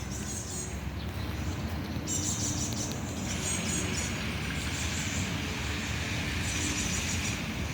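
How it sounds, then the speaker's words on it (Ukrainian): Morning birdsong chirps in short high bursts over a steady, rumbling background, moderately distant and faint, several calls repeating across about eight seconds. "так співають пташки."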